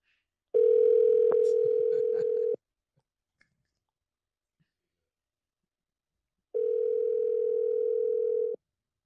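An outgoing phone call rings back with a steady electronic tone, two long beeps of about two seconds each separated by a four-second silence, clear and close.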